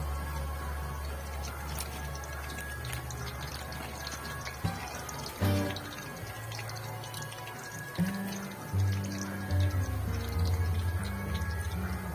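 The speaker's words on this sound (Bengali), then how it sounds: "এবার এটাকে বারবার নেড়ে চেড়ে ভেজে নিতে হবে।" Raw banana slices fry in hot oil, a quiet continuous sizzle scattered with small pops and crackles.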